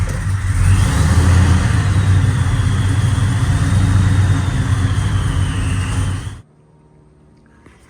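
A 1966 Chevelle's engine runs close and loud at a steady idle for several seconds, then cuts off abruptly into near silence.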